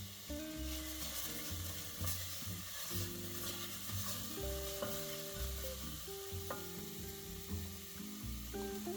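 Dijon mustard, tarragon and seasoning are stirred in an ungreased saucepan over medium heat, with a soft continuous sizzle and scraping of the utensil against the pan, plus faint background music.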